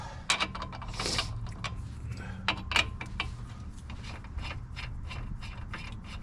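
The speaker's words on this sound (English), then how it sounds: "I could take my lug nut off" A ratchet clicks rapidly while removing a lug nut from a Chevy Suburban-type wheel during a rusty brake job, close metallic ratcheting with a few sharper clanks, continuing steadily throughout.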